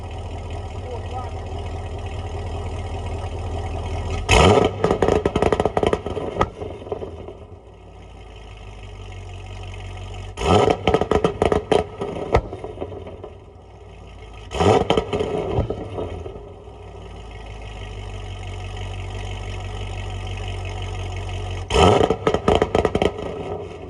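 C6 Corvette V8 on a 2-step launch controller, four sharp crackling rev bursts held against the limiter, each about two seconds, rising from a steady idle that fills the gaps, with someone talking.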